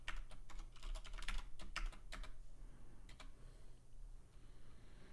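Quick bursts of keystrokes on a computer keyboard while entering a password during an Ubuntu server setup, a rapid patter of clicks that slows to a few isolated taps, fairly quiet, no speech.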